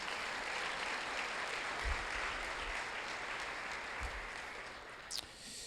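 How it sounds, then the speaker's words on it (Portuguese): A church congregation applauds during a service, with steady, sustained clapping that fills several seconds, plus a few brief thumps and a short bright squeak near the end. "Você pode aplaudir o Senhor Jesus?"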